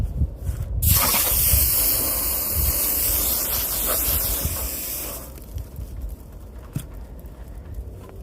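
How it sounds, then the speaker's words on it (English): Sustained hissing spray of water from a bottle onto a car panel coated with cheap ceramic sprays such as Turtle Wax and Meguiar's, loud and close for several seconds, then fading to quiet rustling and a faint click. "Let's see if we can get some more water on that one."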